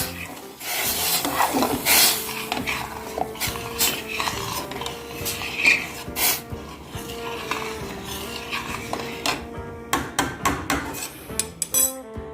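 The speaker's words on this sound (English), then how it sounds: "Give it a stir." A spoon scrapes and stirs quinoa with seasoning in a cooking pot, a steady run of close rasping and knocking strokes with no talk over it.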